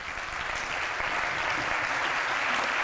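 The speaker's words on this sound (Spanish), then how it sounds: "Un fuerte aplauso para Natalia" Steady audience applause fills a conference hall on vocational dual training as Natalia San Juan goes up to the stage, a continuous crowd clapping throughout.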